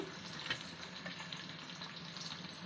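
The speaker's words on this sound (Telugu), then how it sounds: "చూడండి ఇలా కూర ఉడుకుతుంది చూడండి" Rayalaseema-style goat head curry bubbling and simmering in a masala of coconut and coriander, a steady soft sizzle and gentle bubbling heard close up with no talking.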